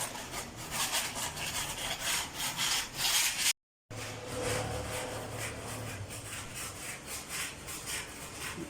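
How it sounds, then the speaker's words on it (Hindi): Old paint is scraped and rubbed off a wetted house wall in steady, close, rasping strokes, repeating rhythmically for several seconds with a brief silent gap partway through. "रगड़ के उतार रहे हैं ताकि बेस बन सके ना"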